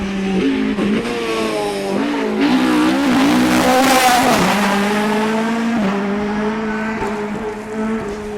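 Rally car blasting through a special stage of the East Riding Stages Rally, its engine loud and close with rising and falling revs through gear changes, tires scrabbling and squealing on the surface.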